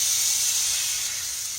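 A pork loin sears fat side down in a hot pan, giving a loud, steady hiss and sizzle that fills the short moment alone, easing slightly toward the end.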